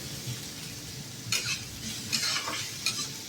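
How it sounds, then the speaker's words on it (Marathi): Chopped onions frying over a high gas flame, a steady sizzle with a few louder stirring scrapes of a spatula in the pan, close by and with no talking. "ते कांदे आपण लाल रंगा येईपर्यंत परतून द्यायचे"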